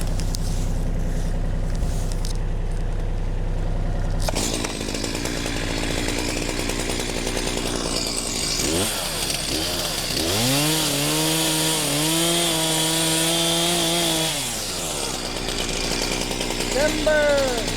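Chainsaw cutting through a crooked poplar trunk during felling, a loud continuous engine whine that rises and falls in pitch under throttle, steady and close throughout, with a voice calling out partway through.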